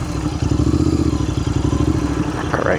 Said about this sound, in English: maybe park my motorbike.